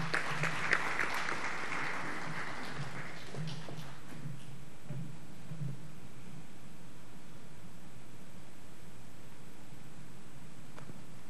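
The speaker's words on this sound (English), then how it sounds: "Join me, please, in welcoming with applause Mr." An audience at a formal NGC and Shell agreement signing applauds to welcome Shell country chairman Derek Hudson, a burst of applause that quickly fades within a few seconds into quiet room tone.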